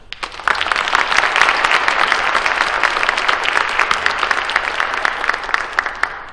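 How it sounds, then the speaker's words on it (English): Applause from an evening audience for spelling bee students at a 2015 event, a dense, steady clapping that swells within the first half second and holds loud and even to the end, with no talk over it. "Let's give these students a round of applause for the hard work they put in to be here tonight."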